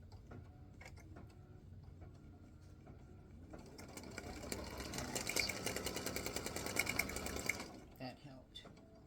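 An embroidery sewing machine stitches a tack-down stitch on a greeting card, a steady rapid mechanical whirring with ticking that builds and then stops, while a voice talks over it at the start and end.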